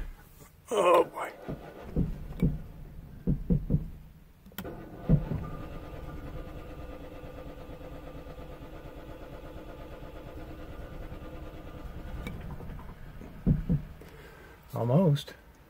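Generator engine cranking, catching and settling into a faint, steady idle heard from inside through a cracked window, with people talking at the start and end.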